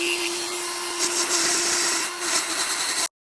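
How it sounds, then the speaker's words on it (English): Dremel rotary tool cutting through a custom mini bike frame, a steady high-pitched grinding whine with gritty abrasive hiss, continuous and close for about three seconds before stopping abruptly. "so I'm just going to go ahead and hit it with the Dremel"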